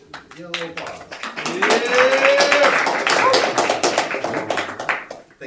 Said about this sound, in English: Give a little applause